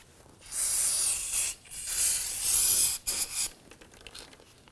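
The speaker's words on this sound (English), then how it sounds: "Go ahead and take some spray solvent." Solvent cleaner sprayed onto a 2008-2011 Ford Focus transmission to clear leaked fluid, heard as three loud hissing bursts of spray separated by short pauses, close to the microphone with no talking.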